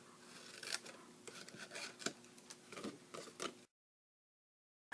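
Scissors snip through cardstock flaps of a post-it note holder in a quick series of small, crisp cuts with soft paper rustle, close and fairly quiet, ending in silence.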